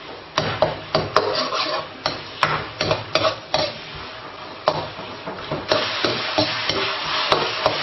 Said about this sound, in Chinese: 炒的时候还是要不停的翻动